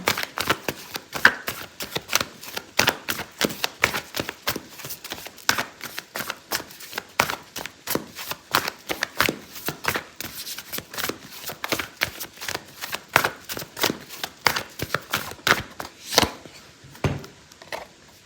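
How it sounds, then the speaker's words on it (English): Oracle cards being shuffled for a tarot reading, a long run of quick crisp riffling taps and slaps, close and fairly loud, with no talking. "I'm going to pull out an oracle card for you"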